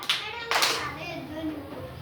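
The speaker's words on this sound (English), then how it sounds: "Clap your hand" Two sharp hand claps about half a second apart during a children's listen-and-act action exercise, loud and close, followed by a quieter lingering room tone.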